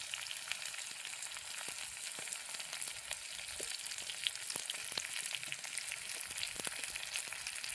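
Brinjal and onion with masala fry in a pan, giving a steady, close sizzle with light crackles and occasional stirring, no voices.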